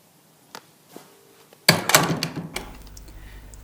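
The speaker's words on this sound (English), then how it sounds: "So if you want to feel round and shut the door." A door is pushed shut by its handle. A few soft taps and a low creak come first, then a sharp thud with rattling, followed by a lingering low hum.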